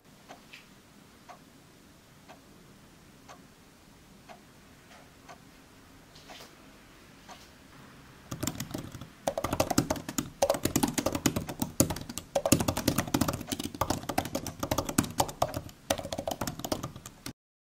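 Keys on an Apple Magic Keyboard for iPad clatter in quick, steady typing, close and clear. Before that comes a quiet stretch with only a few sparse ticks.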